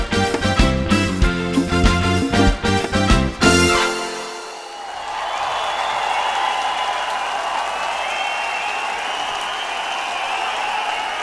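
Concert audience at a live outdoor show bursts into sustained applause after the music stops, dense clapping and crowd noise holding steady for several seconds.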